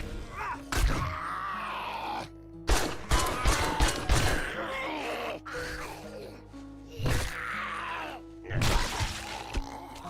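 Sharp bursts of gunfire in the survival game 7 Days to Die, several separate cracks and short volleys spaced across the stretch, loud and close, with game music or ambience running underneath.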